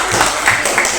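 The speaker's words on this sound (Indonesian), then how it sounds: "Ya, beri tepuk tangan." Brief burst of classroom applause from high school math students, a dense patter of hands clapping together for about a second, close and fairly loud.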